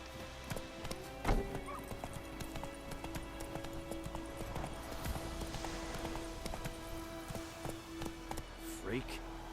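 Hooves of the horse Roach clip-clop steadily in The Witcher 3 game world, with a whinny and bursts of louder footfalls near the rider over a constant low hum and sparse game sounds.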